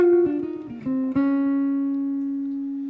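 A bebop blues lick on guitar: a quick run of clean single notes steps downward, then one final note rings out and slowly fades, played alone and close.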